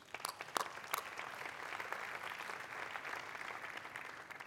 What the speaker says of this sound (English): round of applause for all three of them, please